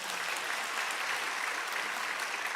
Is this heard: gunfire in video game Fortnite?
no